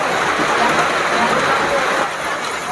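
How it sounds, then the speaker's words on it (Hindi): Heavy rain pours down during a storm at a house, a dense, continuous hiss of drops beating on surfaces, loud and steady with a slight easing near the end. "घर को पूरा वर्षा आसी जाइछि"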